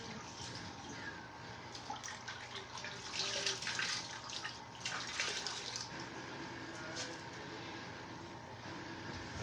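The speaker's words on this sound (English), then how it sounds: "I'm just gonna wash the cutting board sometimes." Tap water runs steadily into a sink while a cutting board is washed in a home kitchen, a continuous faint hiss with brief louder splashes as the board moves under the stream.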